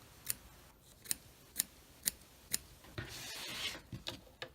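Scissors cut around the edge of fabric for an in-the-hoop embroidery cutlery holder, giving a close series of sharp, evenly spaced snips followed by a short rustling rub, with no talking.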